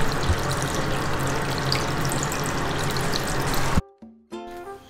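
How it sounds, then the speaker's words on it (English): Aquarium tank water drains into a sink as a steady, broadband rushing splash for nearly four seconds, then cuts off abruptly into near silence with a few faint clinks and a brief tonal hum. "while the tank's draining a little bit"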